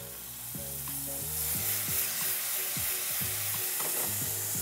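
Mushrooms sizzle in a pan sauce, a close, steady crackling fry with soft scraping and stirring sounds throughout.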